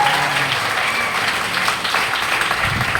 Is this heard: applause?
yes